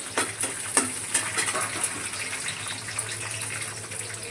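Two or three green chillies and peeled garlic cloves frying in hot oil in a kadai crackle and sputter up close, with a few sharp pops early on before the sizzle settles.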